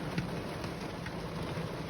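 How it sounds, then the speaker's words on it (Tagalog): Heavy rain pours in a dense, unbroken hiss, drumming steadily on a surface close by, heard from inside a vehicle at Mapanuepe Lake. "Kasi sobrang lakas ng ulan"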